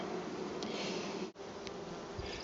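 Honeybees drone in a dense, continuous buzz from an opened beehive in spring, close up, with no voices.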